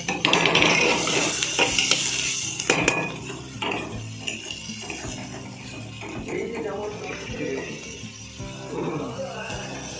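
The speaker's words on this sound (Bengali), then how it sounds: "পেঁয়াজটাও আর কিছুক্ষণ নাড়াচাড়া করে নিয়ে একটু নুন দিয়ে দেবো" Onions fry in a home kitchen pan while a utensil stirs them, giving steady scraping and clinking strokes over a soft sizzle, fairly close and loud at first, then easing.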